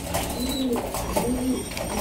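Racing pigeons coo repeatedly in soft, rhythmic low calls at close range, over a steady background of general noise.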